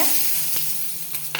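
Mustard seeds and onion sizzle in hot oil with a constant bright hiss, joined by a few short pops and clinks, steady and close.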